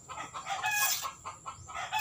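Chickens clucking and crowing close by in a Filipino household yard, a busy overlapping run of loud squawks, clucks and a rooster's crow filling the short moment.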